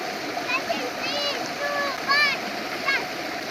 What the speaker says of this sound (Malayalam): ചെറിയൊന്ന് തെറിപ്പിക്കും വെള്ളം.